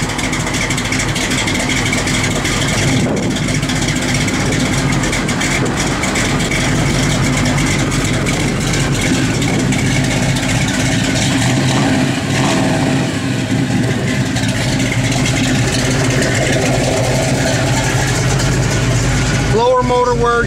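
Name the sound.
1966 Chevrolet Nova engine idling with an aggressive cam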